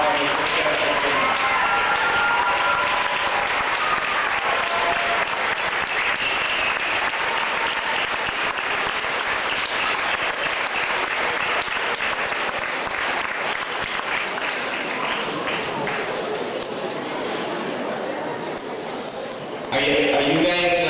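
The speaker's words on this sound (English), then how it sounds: "give him a round of applause for walking his successful journey" Sustained crowd applause from a gathered audience honoring a charity walker, Kristopher's Wish in Richmond Hill, Ontario, steady and dense for about twenty seconds, with cheers and chatter mixed in before it thins near the end.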